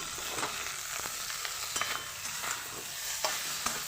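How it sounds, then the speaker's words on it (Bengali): Fish head and yardlong beans frying in a pan, a soft steady sizzle broken by scraping stirs and light clicks of a spatula at close range, with no voices. "একটু নাড়াচাড়া করে নেব"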